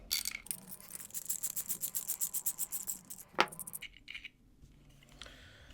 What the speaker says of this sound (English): we just remove the kingpin nut with a ratchet wrench